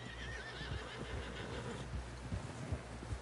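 A horse in a video game whinnies with a wavering, high neigh over faint hoofbeats and a steady background hum; fairly quiet and somewhat distant.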